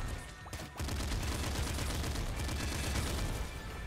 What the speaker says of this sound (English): We got the quadruple machine gun.